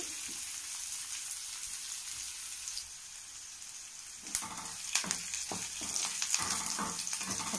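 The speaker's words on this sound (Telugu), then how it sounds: "లైట్ బ్రౌన్గా వచ్చేంత వరకు వేపుకోండి" Food frying in a pan until light brown gives a steady, fairly quiet sizzle, with a few sharper crackles and pops near the end and no voices.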